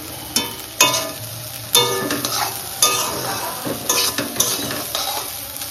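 Potatoes with poppy seeds fry in a pan, a steady close sizzle broken by repeated scraping strokes of a spatula stirring them, fairly loud with no talk.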